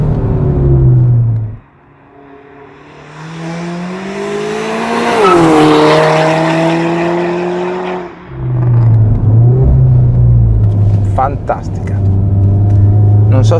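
An Alfa Romeo Giulietta 1750 QV revs hard with a brief tire squeal, then a rapid gear change cuts the engine note before it climbs again. Loud and close, with an excited voice speaking over it.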